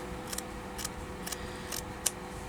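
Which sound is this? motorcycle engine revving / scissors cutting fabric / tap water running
scissors cutting fabric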